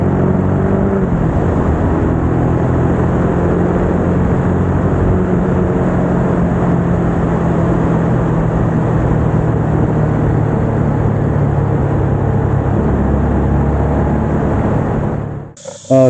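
A 2012 Daewoo Mirage 650 motorcycle engine, after a leaking radiator repair, drones continuously and loudly up close, holding a steady rumble that shifts slightly in pitch before cutting off abruptly at the end.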